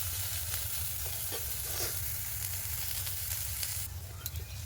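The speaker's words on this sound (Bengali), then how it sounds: "পেঁয়াজটা প্রথমে ভেজে নেব ভালো করে।" Finely chopped onions fry in a kadai for a village Bengal kachori recipe, giving a steady, close broadband sizzle with faint stirring scrapes and a brighter hiss burst near the end, no voices.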